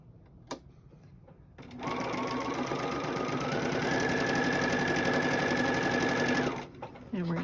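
Sewing machine stitching two fabric pieces together for Christmas charm square quilt blocks: a steady, close, whirring run of needle strokes lasting about five seconds, rising slightly in pitch midway, then stopping abruptly.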